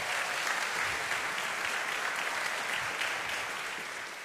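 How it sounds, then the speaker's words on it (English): A church congregation applauds steadily at a Sunday service, a dense, even wash of clapping from many hands that holds full and close for several seconds before tapering slightly at the end. "we're going to give you 2 a round of applause"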